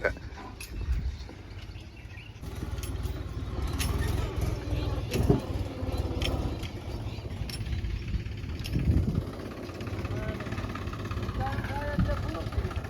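A farm tractor's engine rumbles steadily nearby while the trailer is being loaded, a low continuous drone under people talking, with a dog barking at moments.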